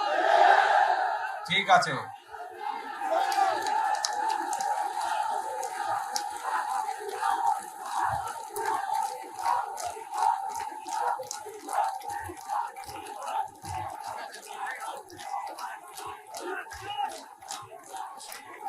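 Political rally crowd chanting and shouting slogans, a dense roar of voices in rhythmic bursts around a speaker talking over a loud, echoing public address system.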